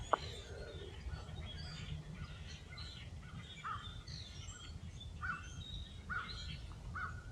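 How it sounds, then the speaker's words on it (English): Faint birds call repeatedly from a distance at a lakeside campground, scattered short notes over a steady low rumble of outdoor background noise. "I've been listening to those birds for the past half hour."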